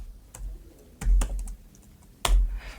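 Typing commands on a computer keyboard: a few sharp, close key clicks in an irregular rhythm, including two heavier thumps like the space or enter key, with no talking.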